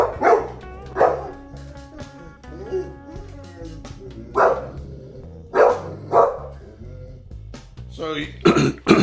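A dog barks in several loud, close bursts inside a house under renovation, spread irregularly through the stretch with short gaps between them and a few quieter yips.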